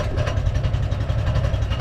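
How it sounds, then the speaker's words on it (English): Boat outboard engine on a wetland marsh trip chugging at low revs, a steady close throbbing rumble with no voices. "You just about to start the engine up"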